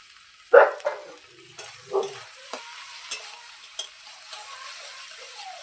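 Chilies and spice masala fry in oil in a pan for a river tangra fish curry. A close, steady sizzle hisses throughout while a spoon scrapes and knocks against the pan in irregular strokes.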